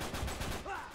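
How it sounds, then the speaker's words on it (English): Gunfire in the video game Uncharted 3, a dense burst of shots crackling over a low rumbling bed, fairly loud and continuous for about a second with no voices. "I heard gunshots!"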